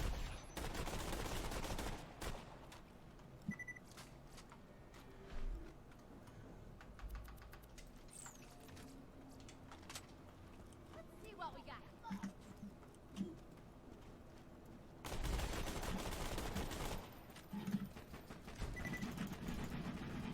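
Pistol gunfire from Borderlands 2, loud bursts of rapid shots at the start and end with scattered clicks and game effects between, while a player talks at times.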